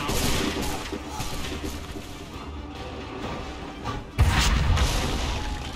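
Gunfire in Assassin's Creed III Remastered, in a battle against redcoats: a string of muffled booms and musket cracks through a busy mix, ending in one loud close shot with a rumbling tail.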